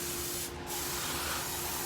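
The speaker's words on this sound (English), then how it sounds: "spray it on. You don't have to go crazy. It penetrates the fins." Coil Doctor aerosol coil cleaner sprayed onto the fins of an air conditioner, a loud, close, continuous hiss with one brief dip partway through.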